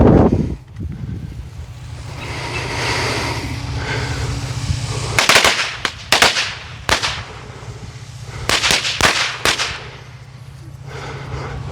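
Hale bombs firecrackers from Pyro Predator going off outdoors on a sunny day, a string of sharp loud cracks in irregular clusters over steady wind noise.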